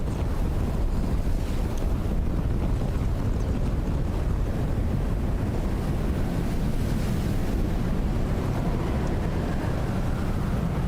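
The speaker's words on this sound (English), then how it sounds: "it's so windy" In Dune: Awakening, wind roars continuously in a heavy, rumbling gust that never lets up, buffeting loudly with no voices.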